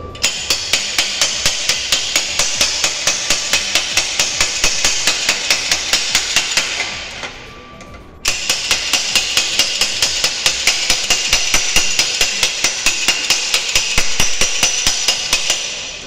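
A hammer strikes a rod driven into the left fork tube of a Suzuki GT125 motorcycle during a rebuild. The metallic blows are loud, close and rapid, in a steady rhythm with one brief pause midway and no speech.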